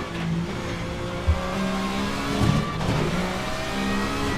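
A 1995 touring car accelerates hard out of a corner during testing, its engine note climbing steadily in pitch through gear changes, loud and continuous from a moderate distance.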